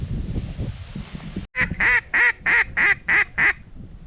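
A hen duck quacking during a duck hunt in high winds, a sequence of about seven loud, evenly spaced quacks close by, following a stretch of gusty wind noise.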